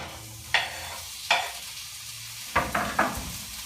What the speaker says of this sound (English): Then we're going to add those greens.